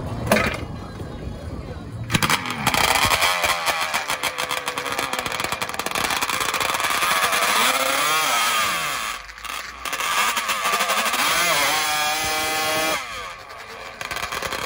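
Yamaha Banshee ATVs race in a drag showdown, their two-stroke engines loud and close, with a high, raspy buzz that rises and falls in pitch through repeated revs and gear changes.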